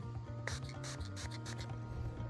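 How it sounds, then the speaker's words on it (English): Repeated short hissing bursts of an aerosol headlight restoration spray, about five quick spritzes in a row over a steady low hum, close by. "I'll spray"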